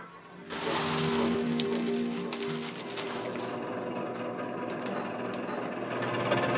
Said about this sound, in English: I've got a small little electric blower that pumps air in through the vent underneath the forge